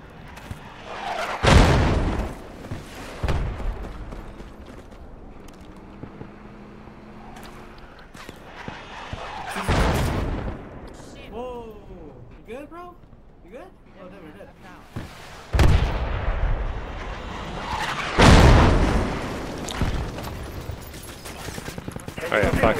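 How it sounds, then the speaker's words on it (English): Mortar rounds explode in the military game Project Reality: several heavy booms land at intervals, some close and loud, others duller, while voices talk in between. "These mortars are getting a little bit more accurate each time."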